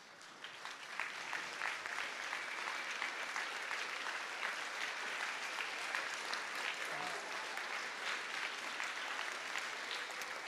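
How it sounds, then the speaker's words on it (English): An audience at a music festival applauds the clinicians with steady, even clapping that stays fairly distant and quiet and runs for about ten seconds, with no talk over it. "I would like to give a big round of applause and ask our clinicians to stand where they're at"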